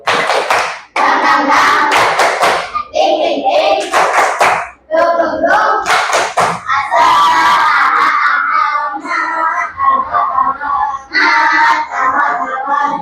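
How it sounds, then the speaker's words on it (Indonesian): A school class joins in a rhythmic group clap, the tepuk semangat cheer, with sharp claps in quick patterns mixed with loud chanting voices throughout. "kita kasih tepuk semangat dulu buat kita bareng-bareng"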